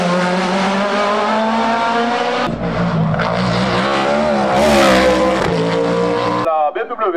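A BMW race car at the Bagnols Sabran hill climb screams up through the gears with loud, rising engine tones and a brief tire squeal, while a voice speaks over it.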